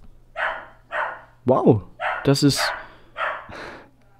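A dog barks a few times in the background, fairly faint, under someone talking steadily in the foreground.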